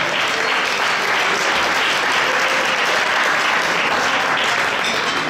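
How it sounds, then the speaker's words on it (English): A dense, steady round of applause fills the room at the Seed of Victory Foundation 2017 annual gala dinner and dance, with the many hands clapping loud and close and holding constant. "One more round of applause for our ladies and gentlemen"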